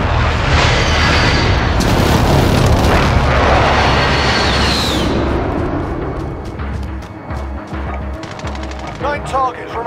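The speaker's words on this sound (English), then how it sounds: "Be advised, friendly precision airstrike inbound." Precision airstrike in the shooter game Warzone: a loud roaring blast with heavy rumbling explosions and a jet sweep, fading into scattered gunfire and distant booms.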